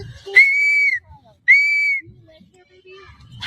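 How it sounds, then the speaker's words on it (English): Two sharp, loud whistle blasts, each about half a second long, sound in quick succession. A few faint low sounds follow, and there is no talking. "those whistles are annoying"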